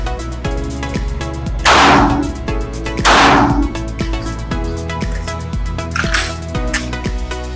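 Gunshots ring out at an indoor shooting range, two loud sharp reports about a second apart followed by fainter distant shots, over a background of rhythmic clicking and hum.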